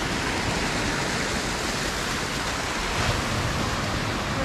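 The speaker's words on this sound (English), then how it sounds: "the tiny streams turn into pretty cool" Small streams swollen by overnight rain into waterfalls along the Lake Superior coast in Ontario, Canada, make a steady, close, full rushing roar that never lets up, with no voices.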